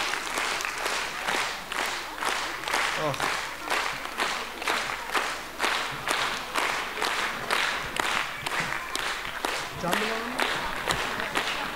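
An audience at a live comedy show claps hands in a steady, sustained burst of applause that lasts throughout, evenly dense and moderately loud, with a few voices briefly audible beneath.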